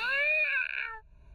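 A person imitates a cat's meow in a One Piece anime: a single drawn-out, tonal mew of about a second, clear and close, with no other sound.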